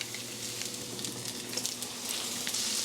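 Butter sizzles in a hot pan with a steady, soft crackle and scattered small pops, fairly quiet and continuous throughout.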